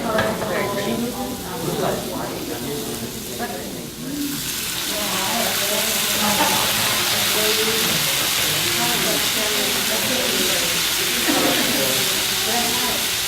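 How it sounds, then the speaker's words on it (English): Vegetables sizzle and hiss in a hot pan, with stirring clatter and a rush of steam rising partway through, while people talk nearby. "It's going to help continue by way of stir frying and steaming the vegetables"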